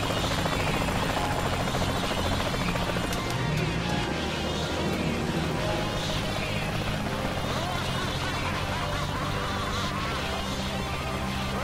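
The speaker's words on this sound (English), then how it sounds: "Where's that guy in the helicopter going?" A helicopter in the video game Saints Row: The Third gives off a steady, loud rotor roar that runs through the whole stretch, mixed with dense game sound, while voices talk over it.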